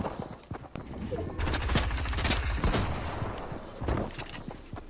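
Rapid bursts of video game gunfire from a Fortnite creative match sound loud and dense for several seconds, with a player's voice sometimes heard underneath the shooting.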